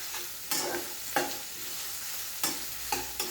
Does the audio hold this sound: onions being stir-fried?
yes